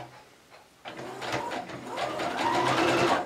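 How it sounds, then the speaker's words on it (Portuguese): A sewing machine stitches a safety seam on a dish towel, starting after a quiet moment and running in a steady, close, rapid whir for the rest of the moment. "Você vai fazer uma costurinha de segurança aqui, ó."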